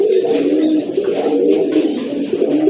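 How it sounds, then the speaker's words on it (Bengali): Pigeons coo steadily and close by at a pigeon market, their overlapping throaty calls forming a continuous warbling murmur for the whole stretch, with no talk. "মাশাআল্লাহ আরেক জোড়া কবুতর"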